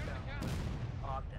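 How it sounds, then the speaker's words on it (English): Cannons boom in the War of Rights game during a Civil War battle at Bolivar Heights Redoubt, a few distant thuds under a player talking over voice chat. "Oh, there's some cannons going off."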